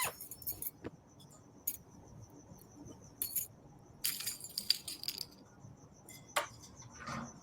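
A key jingles and clicks as it turns in a lock in an animated horror short, several bright metallic rattles and chinks spread across a quiet, faintly noisy background.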